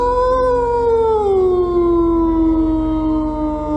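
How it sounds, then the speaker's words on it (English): A wolf lets out one long, loud, close howl that starts high, slides downward and holds a steady tone to the end. "It sounds like there's a wolf here."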